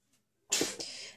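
A single sharp sneeze bursts out close by after a near-silent start, followed by a brief breathy tail; a small faint sound comes just before it.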